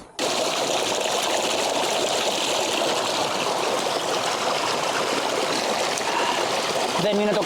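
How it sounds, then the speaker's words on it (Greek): A clear mountain stream in Patagonia flows and babbles close by in a steady, loud trickling rush, with a faint voice briefly near the end. "Δεν είναι το καλύτερο δώρο της φύσης αυτό το καθαρό και γάργαρο νεράκι που βρίσκει στο βουνό?"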